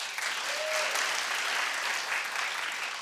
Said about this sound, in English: Clap if you think she was still a star last night.